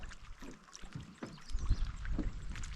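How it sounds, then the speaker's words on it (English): Water sloshes and splashes as a small boat slides into a lake, with rustling and knocking close by and a low rumble swelling in the second half. "Got a boat getting in the water over here."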